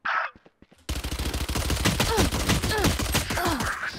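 Rapid bursts of gunfire from the tactical shooter Valorant crackle loudly and continuously after a brief quiet opening, shots overlapping in a dense volley.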